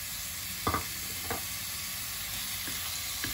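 Soft continuous sizzling of diced chicken frying in a hot pot, with a few brief stirring scrapes and clatters.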